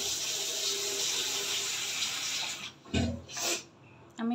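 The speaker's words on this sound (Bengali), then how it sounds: "এখন আমি পরিমাণ মতো জল দিয়ে ঢেকে দিই" Water pours steadily from a tap or jug into a cooking pot of spiced rohu fish curry, then breaks off into a few shorter splashing pours near the end.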